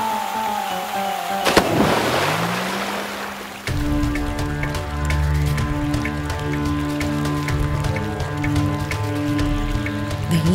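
A cartoon waterfall effect: a clay pot drops into a waterfall with a sudden splash, then a steady loud rushing wash of water continues under a musical score.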